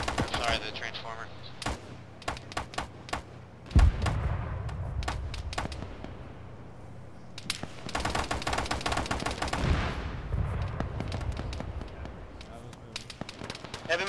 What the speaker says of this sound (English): Heavy machine gun to our north,